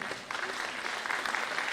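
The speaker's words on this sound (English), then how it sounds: "there is no law that says we should not clap in the afternoon in OAU." Crowd at a formal anniversary ceremony clapping steadily, a dense, even patter of many hands filling the hall without a break.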